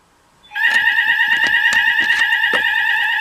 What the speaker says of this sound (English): So I guess the alarm is activated.